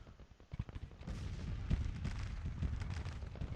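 Artillery batteries fire in the Grand Tactician strategy game: muffled booms and scattered gunfire rumble at a moderate distance, building into a continuous low roar of overlapping blasts.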